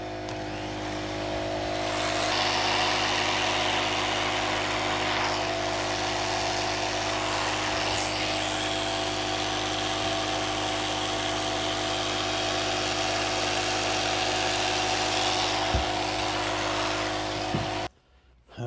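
Power tool trimming foam on an Indian Chief motorcycle seat, a steady buzzing whine with a constant tone running nearly twenty seconds, loud and close, then cutting off abruptly at the end.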